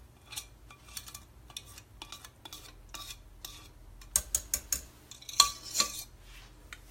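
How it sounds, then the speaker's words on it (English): A whisk scrapes and clinks against a metal pan while stirring roux for gravy and macaroni and cheese, producing quiet irregular scraping strokes that build to a run of sharper, louder clinks near the end. "I didn't even scorch the bottom of my pan because I was whisking it often."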